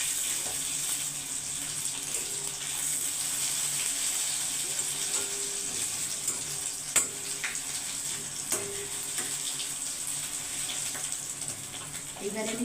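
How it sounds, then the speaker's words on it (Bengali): Pieces of rohu fish fry in oil over low heat, a steady, soft, hissing sizzle that runs evenly throughout with occasional faint pops and clicks. "মাছটা এইভাবে কম আঁচে ভাজবে"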